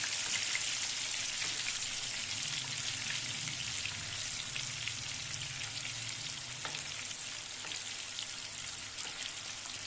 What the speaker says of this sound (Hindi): मछली हमारी फ्राई हो रही है।